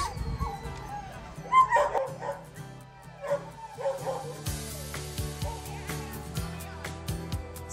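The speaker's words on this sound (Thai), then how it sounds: "มีสุนัขเยอะมากเลยค่ะเดี๋ยวเราจะเข้าไปดูบ้านสุนัขกันนะคะสุนัขฮัสกี้ค่ะ" A yard of Siberian husky sled dogs in snowy Finnish Lapland barks, yips and whines. Overlapping calls come from several dogs at close to middle distance, some sharp and loud, others thin whimpers.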